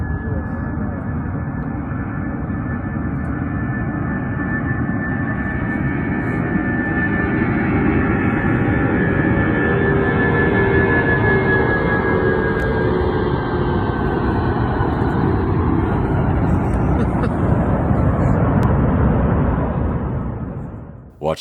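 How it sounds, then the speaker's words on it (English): An airplane taking off, heard from a hot air balloon drifting above it in Sweden, gives a loud continuous engine roar with a rising whine that holds steady for about twenty seconds before cutting off abruptly. "a plane took off below them"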